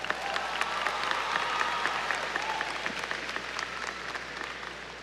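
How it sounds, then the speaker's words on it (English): An audience at the W.W. Samuell High School 2019 graduation ceremony applauds the graduates' families: a steady wash of many hands clapping that fades slightly toward the end, with no voices over it. "graduates, how about a round of applause for those folks?"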